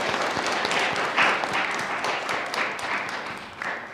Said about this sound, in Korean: 고생한 모두 위해서 박수 한번 칠까요?